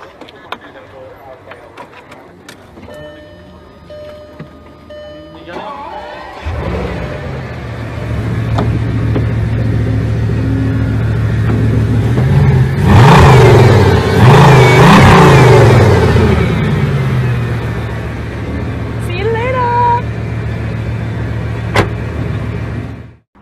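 A McLaren supercar starts up with clicks, then its engine fires and revs loudly up close, settling into a strong idle with a couple of throttle blips before cutting off.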